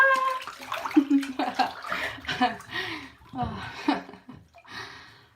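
Water sloshes and splashes in a bath in a series of close, uneven bursts, with some breathing or vocal sounds mixed in.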